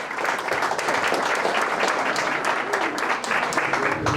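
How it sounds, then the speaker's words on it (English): Audience applause at an entrepreneurship speaking event, continuous clapping from a sizeable crowd with some voices mixed in underneath. "So big round of applause for you guys and for all the opportunities that you're going to have tonight."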